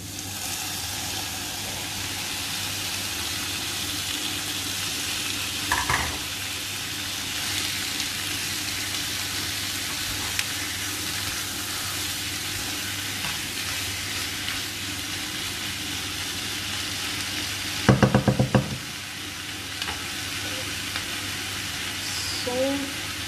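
Squid frying in a pan with coconut-milk sauce ingredients, a steady, close hiss and sizzle throughout, broken by a couple of brief clattering stirs against the pan.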